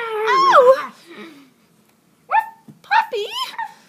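A puppy barks and yips excitedly in short bursts, close and fairly loud, with a pause of near silence between the opening and closing outbursts.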